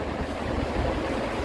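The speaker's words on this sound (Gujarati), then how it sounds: "અદ્ભુત પવન આવી રહ્યો હતો, ઠંડો પવન જોઈ શકો છો તમે" Cold wind blowing over rocks on a hilltop overlooking a dam and river bed, a steady, rumbling rush of gusts buffeting the microphone with no other sounds.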